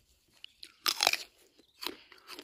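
Crisp bites into a crunchy apple freshly picked in an orchard, a loud crunch near the middle followed by a second bite and quieter chewing, close up with no talking.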